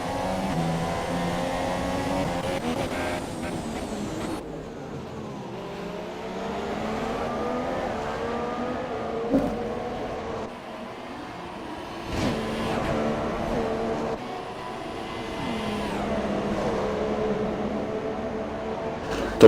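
Several race cars battling in a sim racing video game at Brazil, engines droning and revving with shifting pitch as the cars run close together, steady throughout at moderate level.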